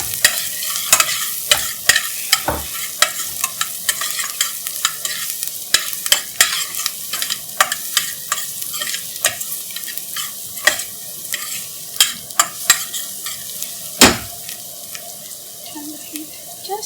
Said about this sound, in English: I'm going to add the asafoetida and the garlic pieces.